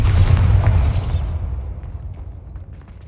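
Bombarda blasting spell in Hogwarts Legacy detonates with a heavy low boom and a sharp whooshing burst, then the rumble fades away over a couple of seconds.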